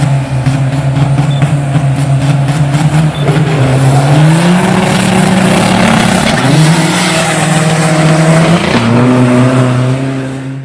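A race car driving on a circuit: a loud, close, continuous engine drone that rises and falls as it shifts gears and changes speed, steady throughout with no voices.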